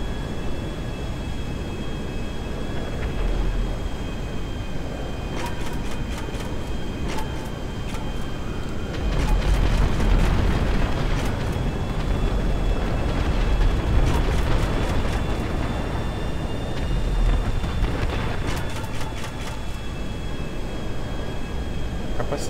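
Steady jet engine roar from an RO-86 jet in GTA V, a continuous whine with tonal lines over a broad rush, swelling slightly at times, with no talk.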